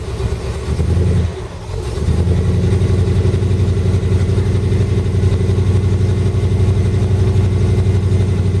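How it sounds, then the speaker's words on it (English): A Jaguar XJ12 V8 engine running on a petrol and gas mix, idling with a low, steady rumble; it dips briefly in the first two seconds, then holds an even, loud drone close by. "it's running on petrol and gas at the moment, so it's a bit sad"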